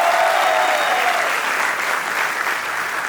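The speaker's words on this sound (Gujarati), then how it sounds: "એમના માટે તાળીઓ થઈ જાય એવરીબોડી." Steady, dense audience applause for guest actor Karan Vyas on a Gujarati comedy talk show, sustained and fairly loud throughout with no voices over it.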